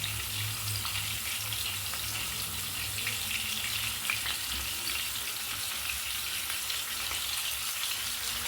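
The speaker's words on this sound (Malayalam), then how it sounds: "ഇനി നമുക്ക് ഓരോ മീനിട്ട് ഫ്രൈ ആക്കി എടുക്കാം." River fish frying one piece at a time in coconut oil in a pan, giving a steady, close, even sizzle that runs unbroken throughout with no voices.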